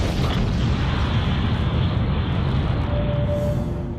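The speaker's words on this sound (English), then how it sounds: "The Ballboard Casino has imploded to make space for MGM's City Center" Building implosion of the Boardwalk Casino in Las Vegas, demolished to clear space for MGM's City Center: a loud, sustained rumbling roar from a controlled demolition that fills the whole stretch without pause.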